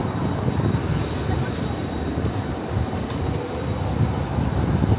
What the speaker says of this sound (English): There's an airplane coming in just over there towards the U.S. Capitol.